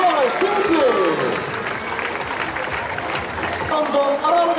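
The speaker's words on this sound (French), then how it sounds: "Un tonnerre d'applaudissements pour nos 4 Libertadores," Sustained applause from a big crowd in the Arles arena at an international recortadores contest, loud and continuous, with cheering voices and whistles mixed into the roar of clapping.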